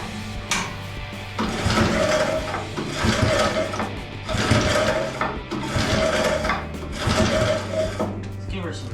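A lawnmower engine cranks over in repeated mechanical whirring bursts about every second and a half, close and fairly loud, with a voice underneath.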